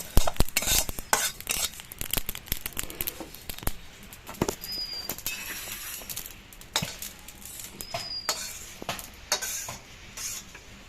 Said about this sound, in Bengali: রান্না করতে আমার জিরে বাটা লাগবে, তার জন্য জিরেটা আগে ভেজে নিচ্ছি।